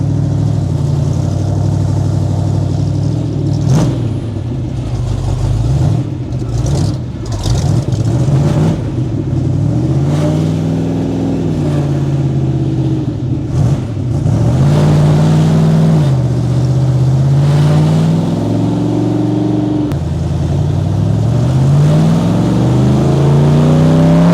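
A 1950s hot rod driven along, its engine loud and close throughout, revving up and down in repeated rising and falling surges with no talk.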